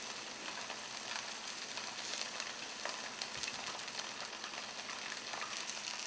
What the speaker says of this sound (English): The mustard seeds are starting to spurt